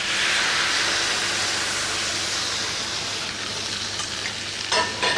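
Dry white wine poured into a hot pan, bursting into a loud, broad sizzle and steamy hiss that gradually settles, with a few faint clinks near the end.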